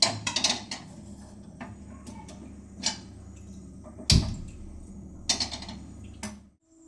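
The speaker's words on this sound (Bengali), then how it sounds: "আবার একটা অন্য কড়াই বসাচ্ছি" An iron kadai wok set down on a kitchen stove, giving a few sharp metallic knocks and clanks spaced across several seconds, loudest near the middle, over a low steady hum without talk.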